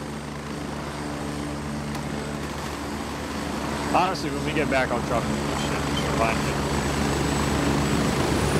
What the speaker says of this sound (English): Alright, here's one of our choppers.